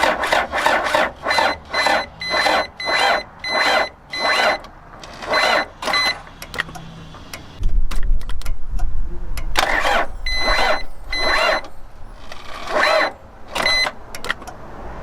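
Car engine cranking over and over without a battery booster, a rapid rhythmic churn in repeated bursts of about half a second, then a steady low rumble and a few more cranking bursts, close and loud.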